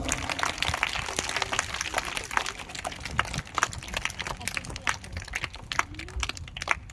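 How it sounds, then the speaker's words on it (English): A school morning assembly applauds class 1 B, with scattered, uneven clapping from a crowd of children that keeps going for several seconds under faint voices. "So clap for the first B class"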